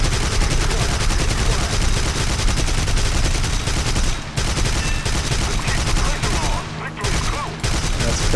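Dense, continuous rapid gunfire rattles loudly throughout, with brief dips in the barrage, like aircraft cannons firing from German planes in War Thunder.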